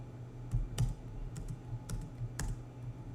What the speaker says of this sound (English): you can actually play this product with the keyboard